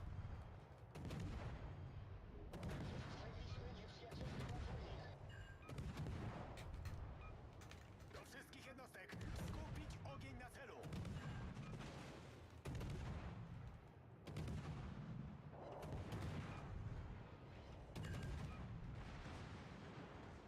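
Sustained video game gunfire and explosive artillery-like blasts fill the stretch, loud and nearly continuous with repeated bursts and booms, with no talk over it.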